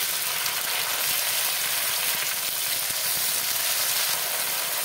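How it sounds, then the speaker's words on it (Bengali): Tomato and onion paste fries in hot oil for a home-style chicken curry, a steady bright sizzle and hiss heard close and alone throughout. "পেঁয়াজটা ভাজা হয়ে গেছে, দিয়ে দিলাম টমেটো আর পেঁয়াজ বাটা।"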